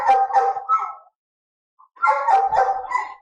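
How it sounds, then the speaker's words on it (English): Big dog letting out loud, whiny barks and howls in two close bursts separated by a short silence, with no talking. "Like when she barks, you can actually hear her."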